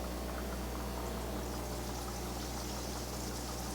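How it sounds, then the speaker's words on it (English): An aquarium airstone bubble wall producing a dense, continuous fizzing rush of bubbles underwater, steady and close, with a constant low hum beneath and no talk. "it too appears to produce a fairly uniform stream of bubbles, although they seem to be slightly larger than the last bubble wall"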